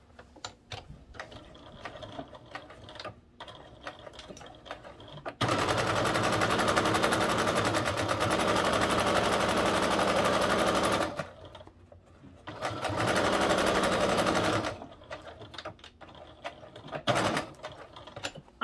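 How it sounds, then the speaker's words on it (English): A sewing machine stitches straight across the long edge of fabric in two loud, continuous whirring runs separated by quieter pauses with light handling clicks, and a short final burst near the end. "what we're going to do is sew straight across the longer edge"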